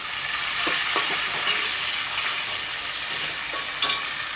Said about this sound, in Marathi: आता आपण मटार घालूयात तर एक दोन मिनटासाठी आपल्याला मटार ह्याच्यामध्ये परतून घ्यायची आहे